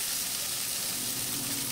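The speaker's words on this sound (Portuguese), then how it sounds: "Vamos refogando essa couve." Collard greens sauté in a hot pan with a steady, close, even sizzle that holds for the whole moment, with no one talking.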